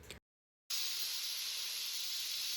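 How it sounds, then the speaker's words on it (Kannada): A pressure cooker cooking Mangalore-style southekayi sambar releases a loud, steady hissing rush of steam after a brief silence, continuing for about two seconds. "ಇವಾಗ ಲಿಡ್ನ ಕ್ಲೋಸ್ ಮಾಡಿ 1 ವಿಸಿಲ್ ಆಗೋವರೆಗೂ ವೆಯ್ಟ್ ಮಾಡಬೇಕು."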